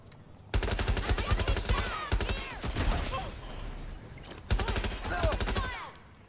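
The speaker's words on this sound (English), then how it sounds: "They are shooting." Automatic gunfire in the video game Watch Dogs: Legion comes in three loud, rapid bursts, each a dense rattle of shots. Brief gaps and a few sharper single reports fall between the bursts.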